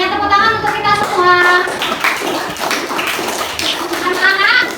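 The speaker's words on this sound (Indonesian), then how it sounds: "Tepuk tangan untuk kita semua" Children in a classroom clap their hands together in rhythmic bursts, close and lively, mixed with kids' voices and tonal chatter between the clapping patterns.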